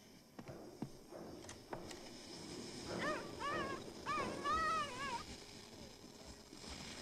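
A dog gives a run of high, wavering whimpers and yips in the middle, with a few faint clicks and thumps before them, set against a quiet indoor background.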